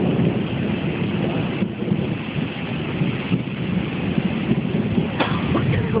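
Steady rain and rumbling thunder from a lightning storm in Saint Augustine, a dense continuous hiss with low rolling rumble, heard loudly from close by without clear talk.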